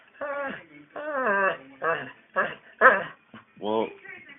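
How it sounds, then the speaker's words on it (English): A dog vocalizing with growly, whimpering yips in several short bursts at close range, each rising and falling in pitch, with quiet pauses between them. "I don't understand growls"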